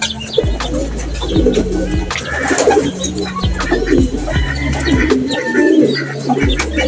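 Pigeons coo repeatedly in a low, rhythmic rumble, several birds close by, with occasional chirps and rustling in the background.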